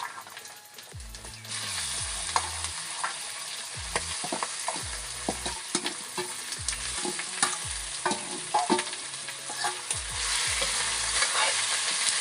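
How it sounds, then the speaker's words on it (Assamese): Chicken sizzles in a hot pan while a utensil repeatedly scrapes and stirs it, with irregular clanks over a steady frying hiss. "মাংসখিনি 10 মিনিটমান সময়ৰ বাবে ভাজিব লাগিব।"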